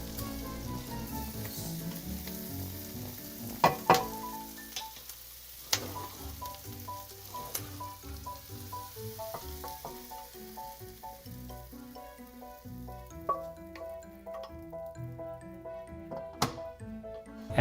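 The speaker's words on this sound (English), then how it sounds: "you add the onions. Maybe the salt, the pepper. Just cook that for about 10 minutes." Onions with salt and pepper cooking in a pan for beef bourguignon, a quiet steady sizzle with occasional sharp clinks and utensil taps, no talking.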